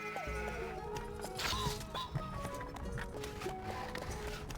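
Sheep in a castle-building video game bleat a few times over a busy backdrop of game music and hoof-like clopping, moderately loud and without talk.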